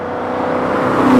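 A loud home-built Ford GT40 replica engine roars close by, its deep whirring growl steadily building in intensity as it revs.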